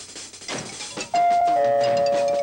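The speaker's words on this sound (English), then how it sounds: "Answer the doorbell." A two-tone doorbell chime in a 1970s animated children's TV special rings once, loud and sustained, over a soft musical backdrop.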